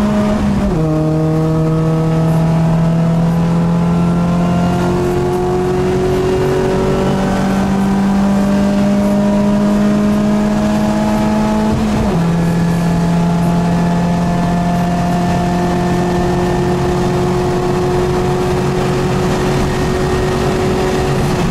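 A Peugeot 208 Racing Cup race car lapping the Magny-Cours circuit, its engine loud and close from inside as it revs up through the gears, with clear shifts and steady acceleration.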